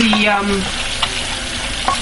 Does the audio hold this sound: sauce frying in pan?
yes